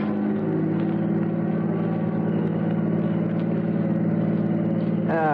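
A car travels along old high-crowned country roads, its engine holding a steady, loud droning hum with a rough low rumble that barely changes, then briefly shifts near the end.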